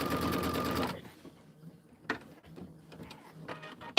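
A sewing machine stitches fabric in one short, quick burst near the start, followed by soft handling clicks and faint bumps at a quilting table.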